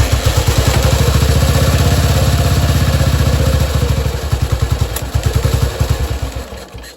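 A BSA C12 motorcycle engine is kicked over, producing a fast, even chain of loud mechanical thumps that slow and stutter toward the end.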